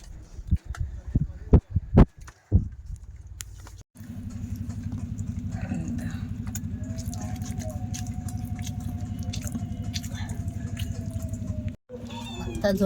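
Several domestic cats meow at a family home. Short, close calls come early, then a longer drawn-out meow rises over a steady low hum, with people speaking in the background.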